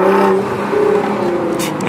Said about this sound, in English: this is the first time I've driven the GTR really since I've tuned the Supra